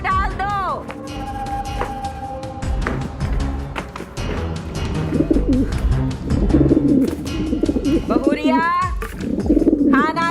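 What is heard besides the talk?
hungry pigeons cooing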